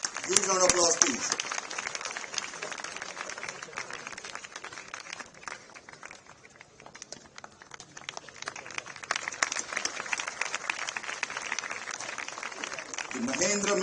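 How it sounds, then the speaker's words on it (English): A hall full of people at a school award ceremony applauds in a continuous, dense wash of clapping that dips briefly midway and then swells again, with a voice over a loudspeaker at the start. "Huge round of applause, please."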